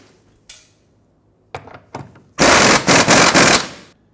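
Fuel tank bolts on a 2000-2005 Ford Excursion driven tight with a power tool, a few separate clunks and taps, then a loud rattling burst of about a second and a half, no voices.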